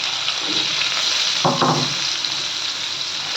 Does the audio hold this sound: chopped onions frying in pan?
yes